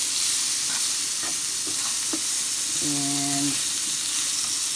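Red potatoes sauté in a pan with spices and vegetables, giving a steady loud sizzle while a utensil scrapes and stirs in short strokes, and a brief tonal beep rises through the frying.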